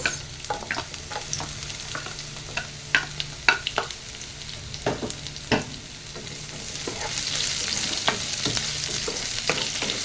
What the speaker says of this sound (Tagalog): At haluin lang ng haluin. Ayusin natin ang ating camera. At yan guys, haluin lang ng haluin ang ating sibuyas